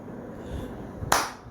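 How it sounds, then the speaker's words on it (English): A single sharp hand clap rings out near the microphone, crisp and loud against a quiet room tone. "If I clap my hand, there is some noise, some sound."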